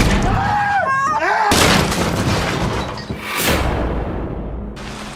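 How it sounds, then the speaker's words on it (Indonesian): Gunfire erupts in a film scene at a cabin under siege: heavy booming blasts with sharp cracks and rumbling tails, loud and close, shifting abruptly between shots. "sebuah tembakan mendarat di pantat si napi yang bernama Todd"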